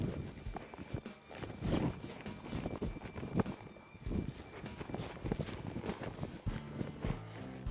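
A cutting horse's hooves pound the ground in a quick run, then halt sharply while working a cow, the busy footfalls loud and close with scattered arena noise around them.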